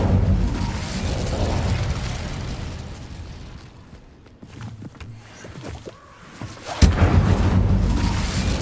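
An Incendio fire spell is cast in Hogwarts Legacy, a loud fiery burst that roars and fades, then a quieter stretch with scattered clicks and footsteps, and a second sharp whooshing blast near the end.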